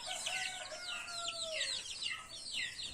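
Roosters on a chicken farm crow in the distance, several overlapping calls at faint level, with bird chatter and soft clucking close by and no speech.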